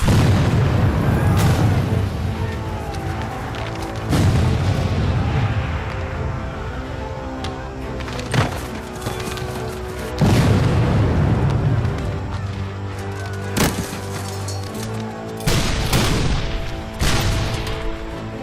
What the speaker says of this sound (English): his men are marching into a barrage of artillery hell